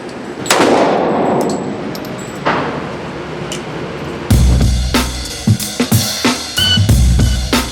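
Gunshots ring off metal targets outdoors, with a few sharp cracks and clangs spaced irregularly and a burst of closer, louder impacts and rattles toward the end.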